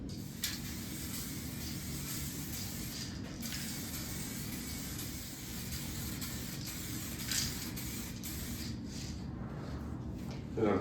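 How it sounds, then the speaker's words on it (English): An aerosol can sprays a coat of paint onto a budget DIY speaker cabinet from a YTmac-05 kit, giving a continuous close hiss with a few brief breaks. "I'm trying to see in the light when I'm spraying so I can get a shine on it as I go"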